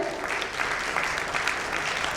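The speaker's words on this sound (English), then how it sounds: "let us have a big round of applause for Usha ma'am as well" Applause from the audience at a ten-year anniversary celebration event: a steady, even wash of many hands clapping, moderately distant, for about two seconds.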